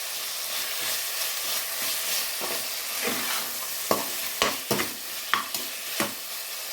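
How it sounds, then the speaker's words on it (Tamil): Tomatoes and salt sautéing in a pan for a traditional Indian village-style green gram rice, giving a steady frying sizzle with several sharp stirring scrapes and clinks toward the end, close and alone. "நல்லா வதங்கி வரட்டும்."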